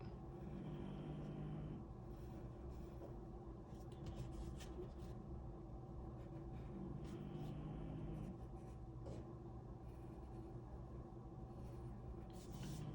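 A pencil traces around a paper tessellation motif on tape-edged paper, a steady soft scratching and rubbing that runs almost continuously at close range.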